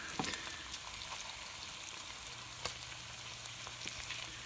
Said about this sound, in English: You want to fry them a little bit on the other side.